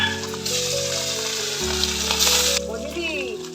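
Pieces of rohu fish hit hot oil for a mustard curry, giving a loud, steady sizzle and spitting crackle close up throughout, with faint background sounds.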